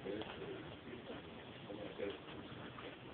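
A pigeon gives soft, low cooing calls, repeated a few times over a muffled, steady background hum.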